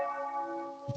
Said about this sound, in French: On entend des belles cloches.